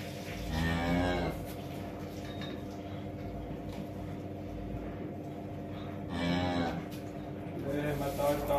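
A cow in labour moos close by in a barn, one long low call at the start and another about five seconds later, with faint shuffling and quiet stall noise between.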